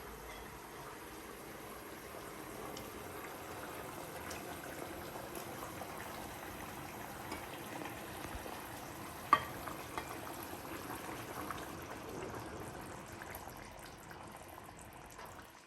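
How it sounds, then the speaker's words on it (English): Mackerel pieces go into a boiling Kerala-style fish curry gravy, which gives a soft, continuous bubbling sizzle with one brief sharp clink partway through. No one talks. "you can see the gravy started to boil. Now I am going to put the mackerels into it"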